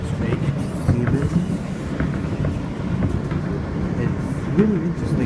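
An R160B subway train with Siemens propulsion, on a battery run, produces a steady, loud running rumble with faint rhythmic clacks, while a voice talks over it.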